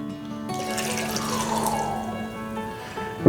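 Water pours steadily from a tap into a bourbon brine for a smoked turkey, a continuous close splashing rush ending with a brief clatter.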